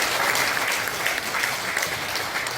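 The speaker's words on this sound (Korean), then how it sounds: "귀한 강의해 주신 신성철 총장님께 감사의 박수 다시 한번 부탁드리겠습니다." Steady, dense audience applause after a special invited lecture by a former university president, a continuous wash of many hands clapping at an even level from start to finish with no voices on top.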